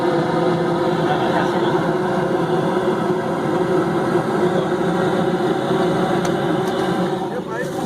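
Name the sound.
rooftop HVAC unit heater with inducer fan running and igniting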